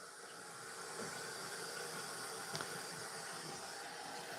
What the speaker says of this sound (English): I'm going to get the hottest water I possibly can get out of this sink. So I'm going to let this run for a little bit.